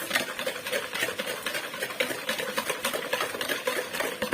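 Electric mixer beating orange cake batter until the sugar dissolves, a steady whirring buzz with rhythmic pulsing, close and moderately loud with no talking.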